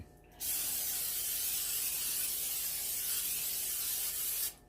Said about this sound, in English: with my olive oil cooking spray